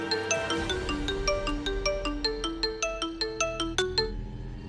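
A phone ringtone plays a bright, repeating electronic melody of quick plucked notes, loud and steady with no voices over it.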